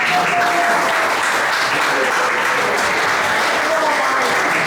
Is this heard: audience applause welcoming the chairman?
yes